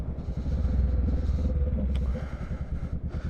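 Steady low engine rumble from a 2021 Honda Rebel 500 S motorcycle being ridden, with continuous wind and road noise and no speech.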